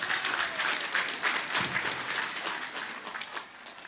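A crowd at a Bolivian school inauguration applauds in a dense, sustained wash of clapping from many hands that gradually tapers off.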